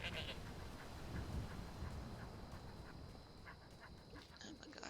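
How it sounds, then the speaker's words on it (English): Goat bleating in Skyrim Anniversary Edition, a few nasal calls at moderate distance over a busy, fairly quiet ambient background. "this goat is hilarious"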